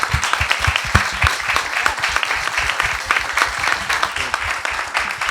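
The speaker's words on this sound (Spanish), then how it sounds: "Así que pido un aplauso porque son excelentes actores y actrices." An audience at a university theatre talk gives sustained, dense applause for the actors. Many close, crisp hand claps run continuously, with no talking over them.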